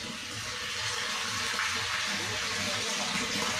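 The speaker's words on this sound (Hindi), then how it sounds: "देख सकते हैं कितना प्रेशर से पानी आ रहा है इसमें।" Water gushing under pressure from an opened 3x4 plumbing pipe fed by a single motor, a continuous loud hissing rush throughout.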